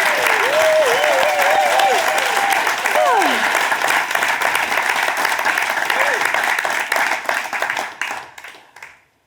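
Loud studio audience applause at a live Notts TV anniversary show in Nottingham, dense steady clapping with a few whoops and a voice calling out over it, sustained for several seconds before fading out at the end.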